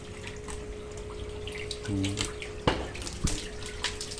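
Water runs steadily in a broadband wash into an African catfish rearing tank, with a faint steady hum and a few sharp knocks or splashes partway through.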